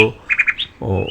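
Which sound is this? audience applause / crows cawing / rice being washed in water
crows cawing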